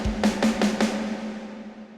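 A drum fill leads into the chorus of a shoegaze track. Four quick, evenly spaced hits roll over a sustained low drone, then the drone rings on alone and slowly fades.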